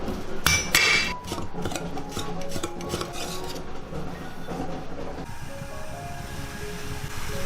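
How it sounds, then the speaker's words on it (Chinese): A knife chops garlic and dried radish on a board, its uneven rasping cuts close and loud, mixed with clatter and a steady background noise. "把蒜跟萝卜干切碎"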